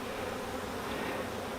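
A swarm of about 40,000 honeybees being moved into a new hive, heard as a dense, continuous buzzing drone, loud and close, with no talk.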